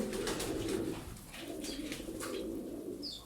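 A blue breeding pigeon coos in a loft, its soft throaty calls steady and close over a low, continuous background hum.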